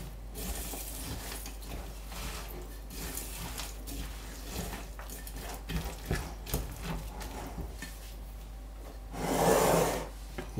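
Batter of eggs and neutral vegetable oil stirred in a bowl, a steady soft scraping and rubbing, close and quiet, with a louder swell of mixing near the end.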